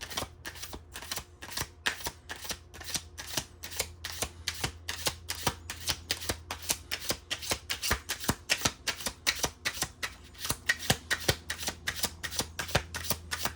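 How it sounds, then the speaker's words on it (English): A deck of cards being riffled and shuffled over and over, a rapid flurry of crisp paper flutters with brief pauses, close and fairly loud. "I need to shuffle more."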